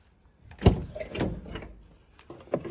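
Doors on a 2014 Renault Trafic passenger van with a 2.0 engine: a sharp close-range clunk followed by softer rattling and sliding thuds and a final lighter knock, in a quiet space with no talking.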